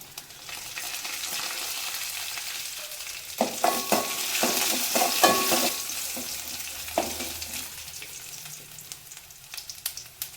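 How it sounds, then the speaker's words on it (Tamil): Vadagam and dried red chillies crackle and sizzle as they are tempered in hot oil, with bursts of stirring and spattering in the middle; loud and close, no talking. "இது தாளிக்கும் போதே நல்ல வாசமாக இருக்கும்"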